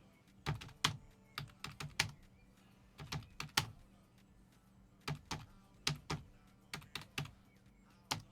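Keys clatter on a computer keyboard in quick bursts of several strokes separated by short pauses, close and clear with no talking.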